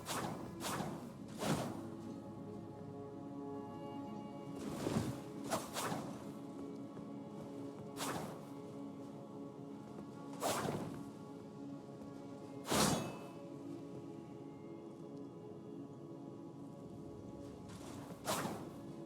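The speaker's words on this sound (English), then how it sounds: "These are the two-handed movesets of the Clinging Bone, Qatar, Veteran's Prosthesis, and Cipher Pata." Fist weapons such as the Clinging Bone, Katar, Veteran's Prosthesis and Cipher Pata swing in Elden Ring, giving whooshing swipes and dull thumping hits at irregular intervals over a steady game music bed.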